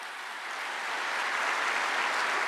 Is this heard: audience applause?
yes